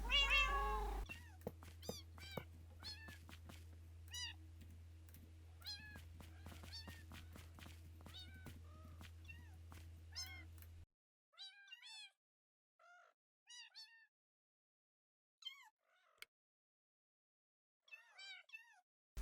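A Minecraft cat meows repeatedly, short rising mews at an irregular pace, first over a low steady game hum and then alone in near silence.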